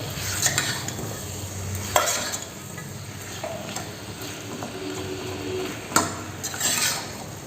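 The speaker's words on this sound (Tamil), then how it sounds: "நம்ம நல்லா அந்த மசாலா கோட்டாகிற மாதிரி நல்லா நமக்கு கலந்து விடணும்" Chicken coated in masala is stirred in a hot pan for soup, a spoon scraping and clinking against the metal every second or two over a steady frying sizzle, close and alone without talking.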